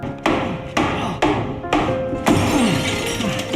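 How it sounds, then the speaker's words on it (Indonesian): Thick sauna door glass is struck repeatedly with a hot stone, five sharp loud impacts at roughly half-second intervals, each with a ringing, crunching shatter tail, close and without talk. "Akhirnya kaca pun pecah."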